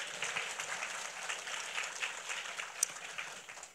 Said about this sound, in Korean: 우리 하나님께 박수로 한번 영광 돌립시다